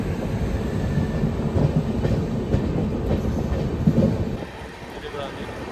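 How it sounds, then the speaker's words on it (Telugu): Howrah SMVT Bengaluru Superfast Express passing close by, with a loud rolling rumble and clickety-clack of wheels over rail joints that drops away abruptly near the end. "Howrah SMVT Bengaluru super fast express"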